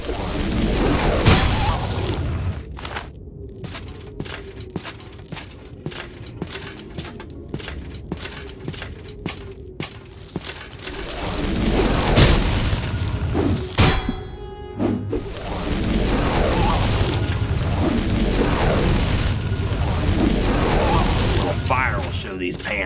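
Fire spells explode in Morrowind Remastered as a rapid series of booms and thuds, followed by a denser stretch of blasts, all under a talking voice.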